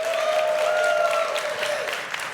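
An audience at a startup competition final round applauds and cheers steadily, a dense wash of clapping that holds for a couple of seconds before easing off slightly.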